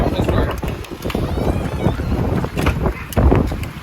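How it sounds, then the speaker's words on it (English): Strong wind with falling snow in Tromsø, Norway, buffets the microphone in continuous rumbling gusts, with a faint voice briefly audible beneath the roar. "Really windy."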